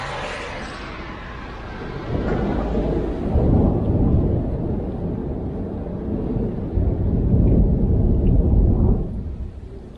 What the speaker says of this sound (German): So, es scheint nicht aufzuhören mit diesem Regen.